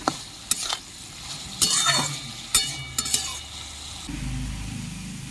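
A spatula stirs ridge gourd (chichinga) as it fries in a pan: several sharp scrapes and clinks over a soft sizzle, followed by a steadier low rumble of cooking near the end.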